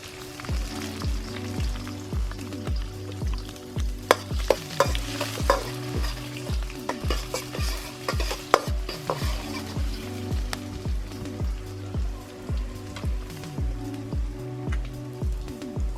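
Ginger and garlic fry in a pan for a quail roast while a spoon stirs them in steady, repeated scraping strokes over a continuous close sizzle, with no talking.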